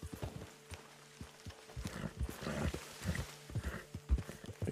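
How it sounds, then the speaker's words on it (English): Horse hooves in Red Dead Redemption 2 Online clip-clop in an uneven rhythm at close range, with steady low tones humming underneath and no talking. "Thought I heard a horse."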